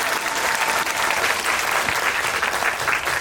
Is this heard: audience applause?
yes